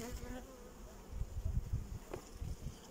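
Honey bees at a beehive holding four frames, a continuous close insect buzz that rises and falls for a few seconds, with faint background noise and no clear talk.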